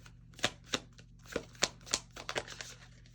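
Tarot cards being shuffled in the hands, a string of crisp riffling bursts and soft slaps repeating unevenly at close range with no talking.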